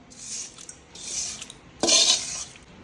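Lemon rice being tossed and mixed in a metal pan, three bursts of scraping and stirring with a louder clattering final stroke, close and without any speech.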